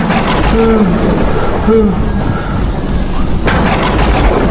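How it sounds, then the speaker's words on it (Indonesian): Thunder sound effect in a church Sunday school Christmas play, a loud sustained rumbling roar with a voice briefly heard over it. "Ada suara petir lagi."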